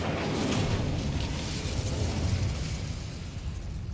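The Incendio fire spell from the video game Hogwarts Legacy gives a sustained, roaring whoosh of flame, steady and fairly full, with a low rumble that slowly fades slightly, without any speech.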